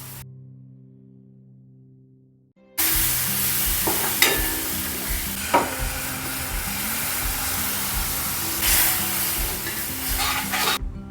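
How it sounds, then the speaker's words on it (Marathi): Milk poured a little at a time into wheat flour fried in a pan for spinach soup, a steady loud sizzle that starts abruptly after near silence, with spoon scrapes and clinks as it is stirred. "आता याच्यात मी 1 कप दूध ॲड करणार आहे,"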